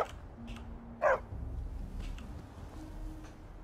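Single short dog bark in the video game Skyrim, one sharp yelp standing out over a low ambient game background, with a few faint clicks around it.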